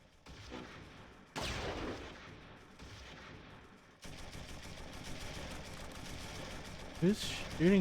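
Gunfire from the World War II strategy game Close Combat III: The Russian Front, with repeated loud bursts and shots over a dense battle rumble, building toward a sharper volley at the end.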